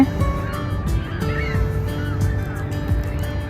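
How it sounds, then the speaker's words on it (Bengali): Birds call beside a frozen, iced-over river in Canada in early spring. A few thin chirps and cries, some mid-distance, rise over a constant low hum of background noise. "পাখিরা ডাকতেছে শুনেন।"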